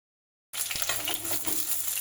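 Potatoes fry in a pan, a close sizzle that starts abruptly after half a second of silence and runs on steadily, with a light knock or stir early on.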